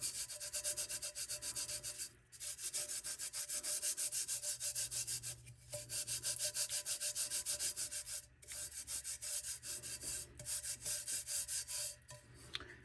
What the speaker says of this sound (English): we're going to take our finger and kind of just rub it off.